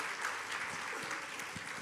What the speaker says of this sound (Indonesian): kita beri tepuk tangan dulu buat Ibu Ervina